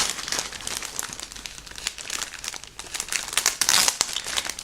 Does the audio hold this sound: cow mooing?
no